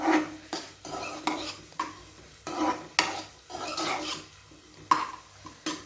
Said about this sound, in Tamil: கொஞ்சம் வெங்காயம் வந்து கொஞ்சம் வதங்கட்டும்.